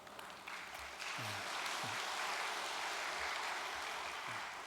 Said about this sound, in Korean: 언제부터 박수 소리가 나는지 모르겠습니다.